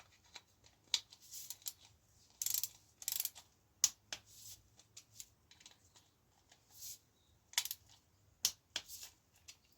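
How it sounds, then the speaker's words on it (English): A torque wrench tightening the bolts on a Middleburn bicycle crank, giving a series of short, sharp clicks and ratcheting snaps that arrive in irregular bursts, close and fairly quiet. "So they're all now torqued up and nice and tight."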